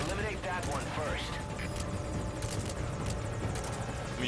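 Helicopter in the video game Metal Gear Solid V: Ground Zeroes, a dense continuous rotor and engine roar filling the scene, with game chatter and effects layered over it.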